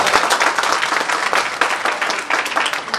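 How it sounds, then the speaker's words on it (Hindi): An audience applauds at a stage event, a Mohammed Rafi tribute dance program in Kharagpur, with loud, close, continuous clapping that pulses slightly throughout. "और एक तालियां में चाहूंगा इसलिए कि हमें आज्ञा दे दीजिए ताकि मैं कार्यक्रम का शुरुआत कर सकूं"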